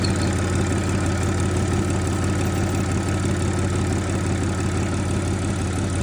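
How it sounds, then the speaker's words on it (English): A car engine in an Audi S5 runs steadily up close, a dense, constant mechanical drone with a rapid ticking rhythm from the supercharger belt and no letup. "it's not the belt from the engine, it is the supercharger belt"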